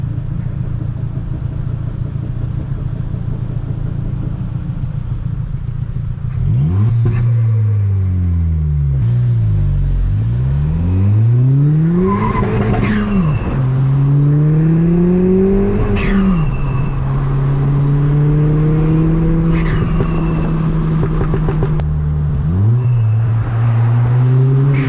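A hybrid-turbo Ford Fiesta ST on a parkway, engine loud and close from inside the car, revving hard through several gears with rising pitch sweeps and sharp drops at each shift.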